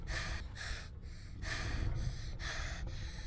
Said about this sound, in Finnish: Vittu miten ahistavaa tää hengitys on